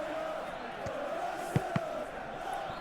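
A stadium crowd in the PES 26 football video game sends up a continuous, broad roar with a couple of sharp thuds, steady and fairly loud throughout.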